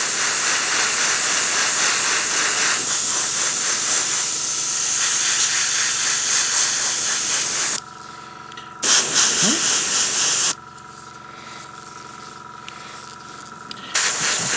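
Airbrush hissing steadily as it sprays paint onto a Cairn Wraith miniature, a continuous airy spray broken by short pauses and cuts, close and fairly loud with no talking.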